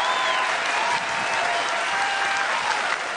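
Audience applause fills a televised singing-competition stage, a dense, steady wash of clapping that holds at full strength throughout without pause.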